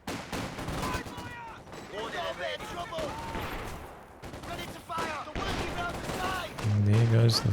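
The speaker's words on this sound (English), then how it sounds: "And there goes the Vickers." A Vickers machine gun fires in bursts during a Company of Heroes 2 battle, mixed with other gunfire and explosions, while a commentator talks steadily over it.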